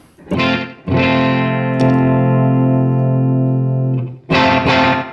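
A loud electric guitar chord rings out through a Super Reverb tube amp, sustaining richly for several seconds, with short picked strums before and after.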